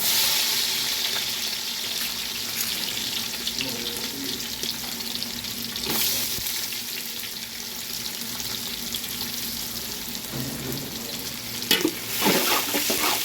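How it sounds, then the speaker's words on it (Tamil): Onions frying in hot oil for mutton fried rice sizzle steadily up close while being stirred, with scraping stir strokes throughout and a louder clatter of spatula near the end. "இப்போ எண்ணெய் காஞ்சிட்டு அதே எண்ணெயில் வெங்காயம் சேர்த்துருக்காங்க"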